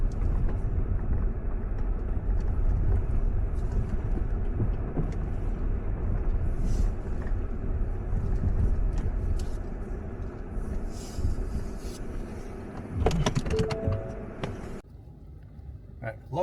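Ford Fusion sedan crawling over rocky off-road terrain, a steady low engine and tyre rumble with wind buffeting the microphone, close and continuous, easing off near the end as a person talks over it.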